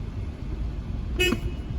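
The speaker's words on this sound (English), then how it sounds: "I'm gonna let this car pass before I honk" A 2013 Kia Rio's horn gives one short honk, loud and close, standing out from a steady background hum with no talking.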